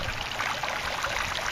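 Water runs steadily into an outdoor aquaponics grow bed, a continuous close hiss and trickle with no break for the whole moment.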